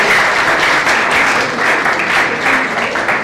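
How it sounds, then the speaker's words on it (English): Applause from an audience at a junior college orientation programme, a loud, dense wash of many hands clapping steadily throughout without a break. "Can I have a big round of applause?"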